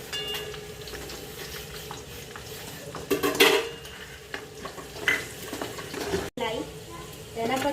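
Red chillies sautéing in a pan, a moderate sizzle under repeated stirring and metal utensil clinks against the pan, with a person talking over it.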